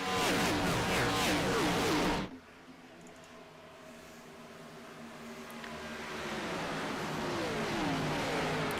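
Race cars on an oval track at night, a loud roar of passing engines that cuts off sharply, then a quieter distant drone that slowly swells again as the cars come back around.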